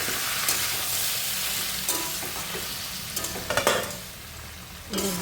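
Vegetables for a Kali Puja labra cooking in a pan with no water added, a steady close sizzle with occasional scrapes and clinks of a spatula stirring.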